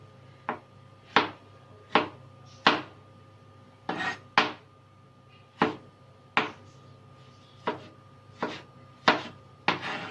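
A knife chops vegetables for a green salad, likely on a board after deseeding, making about fifteen crisp, evenly paced thuds close by, one after another with short gaps, and no voices over them.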